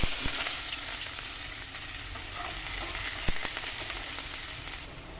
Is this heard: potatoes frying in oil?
yes